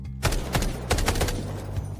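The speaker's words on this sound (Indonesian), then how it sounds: "Lao Mai tiba-tiba menembak." Rapid automatic gunfire from the military shooter Delta Force, several close, loud bursts in quick succession over a constant low rumble of background noise, with no talking.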